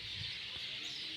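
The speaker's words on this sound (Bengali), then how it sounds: "পাখিদের কিচিরমিচির আওয়াজ নিশ্চয়ই শোনা যাচ্ছে" Birds chirp faintly in the late afternoon over a village pond, a thin high twittering held steady against a quiet rural background for about a second.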